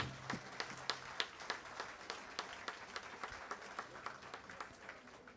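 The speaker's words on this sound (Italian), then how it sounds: "Un applauso, grazie." A small audience at a folk accordion concert of Bolognese filuzzi music claps sparsely and faintly, with individual claps spaced out and distant rather than a full ovation.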